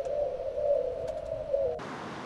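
Birds cooing in the film Birdemic, a steady pigeon-like coo droning at moderate volume with faint chirps over it, cut off abruptly near the end by a burst of hiss.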